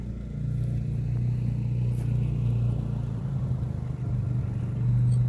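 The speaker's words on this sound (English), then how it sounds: "here he comes with the Ranger with a load of wood in the back" A Ranger utility vehicle hauling a load of firewood rumbles steadily nearby, its engine a continuous low drone that swells slightly toward the end, with no talking.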